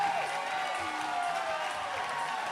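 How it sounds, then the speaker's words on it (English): At a 2018 USA Climbing National Cup bouldering competition, a crowd cheers and applauds as a climber tops a boulder, a broad sustained roar with whistles that holds at an even level throughout. "Into the cheer of the crowd"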